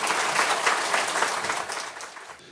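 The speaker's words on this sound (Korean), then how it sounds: "큰 박수로 환영하겠습니다" A Sunday service congregation applauds to welcome a pastor to the front, with a short burst of many hands clapping that fades over a couple of seconds.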